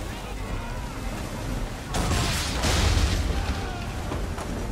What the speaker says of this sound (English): The big cannons, are we gonna hit them?